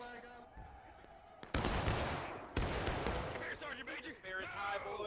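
Musket volleys in a Civil War battle video game: a quiet stretch with distant calls, then two heavy, sudden bursts of massed gunfire that ring out and fade amid shouting voices.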